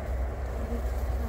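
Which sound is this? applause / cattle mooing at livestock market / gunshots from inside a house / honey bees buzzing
honey bees buzzing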